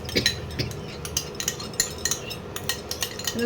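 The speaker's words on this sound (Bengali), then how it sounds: "দইটাকে ভালো করে মিশিয়ে নিয়ে দইটা দেবে।" A spoon stirs yogurt into lamb curry in a pan on the stove, with close, rapid metallic clinks and scrapes against the pan over a soft sizzle, and no speech.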